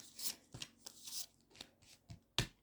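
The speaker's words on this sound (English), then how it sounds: "then we give them another shuffle and see what comes out for this week" Tarot cards being shuffled up close in several quick riffling bursts with short pauses between them, no voices.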